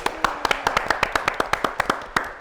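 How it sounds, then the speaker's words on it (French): An audience at a wine gathering honouring Domaine de Beaucastel claps in a quick, steady rhythm, about a dozen sharp, close hand claps over two and a half seconds. "Un tonnerre d'applaudissements, s'il vous plaît."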